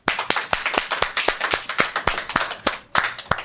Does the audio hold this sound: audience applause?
yes